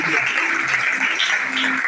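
Church congregation applauding, a dense continuous wash of clapping from many hands with voices mixed in over it.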